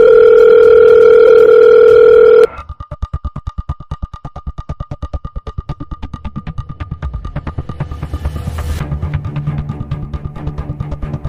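A steady telephone dial tone hums for a couple of seconds, then gives way to rapid clicking and mechanical ticking, ending with a muffled low rumble.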